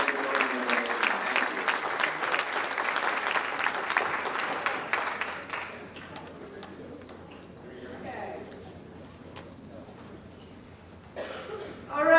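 An audience at the World Pride 2021 bid session applauds the Fort Lauderdale and Copenhagen bidders in a lively burst for about five seconds, then the clapping dies away into a quiet room with scattered coughs and faint murmuring.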